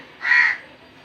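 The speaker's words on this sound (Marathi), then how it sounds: "परी आज कावळा ओरडतोय ग." A single crow gives one clear, loud caw, rising and fading within half a second against a quiet background.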